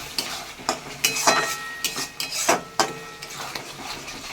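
Mutton and spices are stirred and fried in a pan in a home kitchen, with a sizzling hiss broken by repeated scraping strokes of a spatula at an uneven rhythm, close and moderately quiet.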